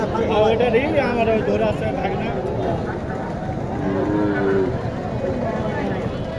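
Cattle low a few times amid the steady murmur of a busy crowd at a cattle market in Naogaon, Bangladesh, with voices haggling over prices close by throughout.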